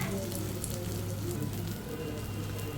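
Corn thalipeeth fries in oil on a griddle, giving a steady, close crackling sizzle with fine bursts of spitting that runs evenly throughout, with no talking.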